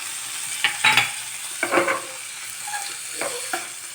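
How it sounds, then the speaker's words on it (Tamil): Paneer pieces fry lightly in ghee with a soft steady sizzle, broken by a few distinct scrapes and clacks of a spatula against the pan, heard up close without any talking. "கொஞ்சம் நெய் விட்டு இந்த பன்னீரை வந்து இதில் வந்து லைட்டாக ஃப்ரை பண்ணிக்கலாம்"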